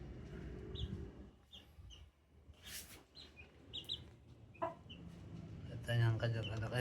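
McLean bullstag rooster clucking in short bursts amid a noisy yard, with other birds chirping and a person talking nearby; a louder burst of sound comes near the end.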